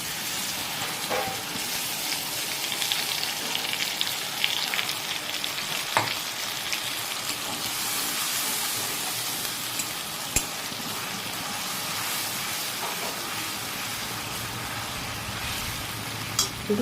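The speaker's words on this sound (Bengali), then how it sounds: "এবার এর মধ্যে এই যে সর্ষে, পোস্ত আর কাঁচা লঙ্কা পেস্ট করে রেখেছিলাম সেটা দিয়ে দেব।" A paste of mustard, poppy seed and green chilli fries with tomato in a pan, a continuous close sizzle with occasional stirring scrapes and clicks, no voices.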